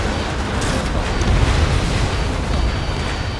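Missile launch and explosion in Ace Combat 7: Skies Unknown during the Pipeline Destruction mission, a loud, sustained low rumbling roar with dense booming that swells near the middle and holds steady throughout, without speech.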